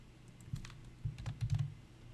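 Soft, irregular keystrokes on a computer keyboard at a desk during Arduino coding, a few quick clusters of taps heard close up in a quiet room with no speech.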